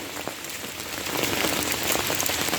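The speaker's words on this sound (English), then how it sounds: "Rain is still falling." Steady rain falls through a night walk to deliver dinner to people in need, a dense continuous patter that grows a little louder partway through, with no voices.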